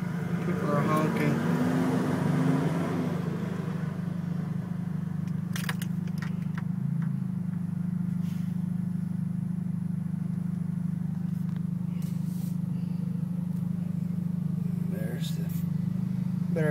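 Cars idle in a traffic jam behind a road wreck, a steady low engine drone heard from inside a vehicle throughout, with a person talking over it early on and faint short clicks and rattles.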